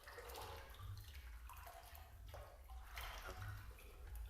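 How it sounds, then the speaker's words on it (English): Footsteps sloshing and splashing through water in the video game The Complex: Expedition, a steady low churn of wading with watery splashes rising and falling, no talking. "walking through water is so disquieting."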